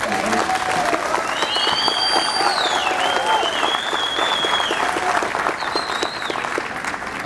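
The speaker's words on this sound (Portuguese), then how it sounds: "uma salva de palmas" An audience at a public security and organised crime hearing in Brazil claps steadily throughout, a dense even wash of hands, while a few faint overlapping voices rise and fall above it.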